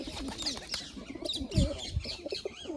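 Domestic pigeons at a rooftop loft give short, close cooing calls mixed with chirps and a brief wing flutter, in a lively, overlapping flock.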